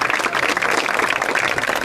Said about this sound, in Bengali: সবাই জোরে একটি করতালি